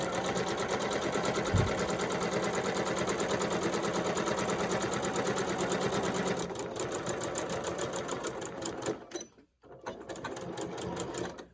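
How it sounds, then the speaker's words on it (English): A sewing machine stitches a quarter-inch seam on a cloth face mask, running steadily and close for several seconds, then stopping briefly and starting again near the end. "make sure that we're doing a 1/4 inch seam. And you'll start at the top and then run all the way down."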